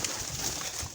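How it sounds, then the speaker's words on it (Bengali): Free-flying pigeons feed nearby, a soft low cooing coming through a steady hiss of outdoor background noise in a single brief moment. "এইগুলো হলো আমার ছেড়ে দেওয়া কবুতর আর কি"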